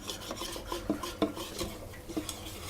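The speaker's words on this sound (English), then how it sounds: "So you just whisk that until you can be sure there are no" Lemon square topping whisked in a bowl, quick scraping and tinkling strokes of a whisk against the bowl, close and fairly quiet, in an irregular rhythm with a few sharper clinks.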